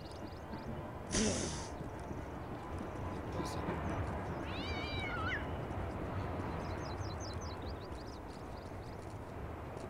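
A cat meows in the video game Postal 2, a few short mewing calls standing out over a constant noisy game backdrop with a sharp burst early on.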